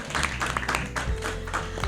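Audience applause at a club-style quiz event, a steady wash of clapping that holds for about two seconds over a low background hum.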